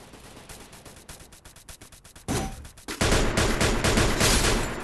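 Rapid gunfire in the Free Fire battle royale game, a run of sharp shots in quick succession that swells into a louder, denser burst of continuous firing near the end, with no talking.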